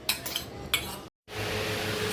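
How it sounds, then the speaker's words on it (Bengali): Spiced raw rice is worked by hand in a bowl for pulao, giving a couple of crisp scraping clinks and then a steady soft grainy rustle after a brief gap, close and without speech. "দেখো এখানে আমি মেখে দিয়েছি চালটাকে ভালো করে, যা যা মশলাগুলো দেওয়া হয়েছিল সব দিয়ে।"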